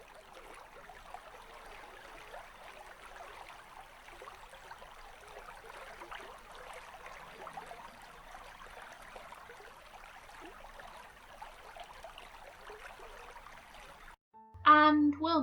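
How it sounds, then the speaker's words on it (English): A woodland stream flows steadily with a faint, soft trickle that keeps going without a break. A short burst of louder music cuts in right at the end. "let's pause the music for a moment and listen to the water"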